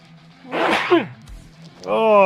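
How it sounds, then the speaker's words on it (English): A single loud, close human sneeze bursts out after a brief inhale, followed by a short vocal groan afterward. "Oh, I gotta sneeze."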